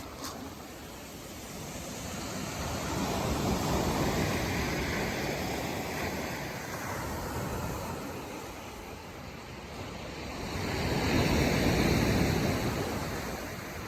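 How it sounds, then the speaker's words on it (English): Ocean surf along the Juan de Fuca Trail on Vancouver Island, heard from inside a tent, roars as a steady broadband wash with a swell around the middle and a louder surge near the end, no voices. "Sounds like the ocean is on top of us in our tent."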